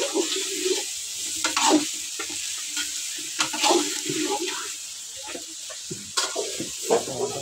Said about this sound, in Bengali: মাছের ঝোলের জন্য আলুগুলো একটু ভাজা নিতেছি